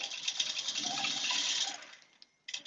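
A home sewing machine stitching during quilting at a quilt show, a steady close whirring run for under two seconds, then a pause and a short burst as it takes another stitch.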